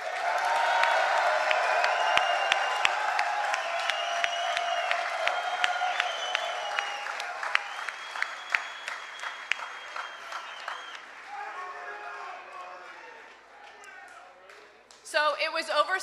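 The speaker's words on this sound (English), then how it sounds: "please give a round of applause for Lynn Agee and Devinder" An audience at a Nashville MLS announcement event breaks into applause, loud at first and then thinning out, with scattered claps and a whoop or two, while talk and tonal sounds run through it.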